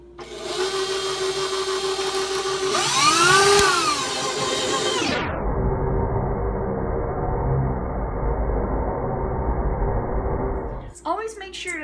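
An electric mixer beats wedding cookie dough, whirring loudly and briefly straining higher before settling to a steady lower drone that stops near the end. A person speaks over it.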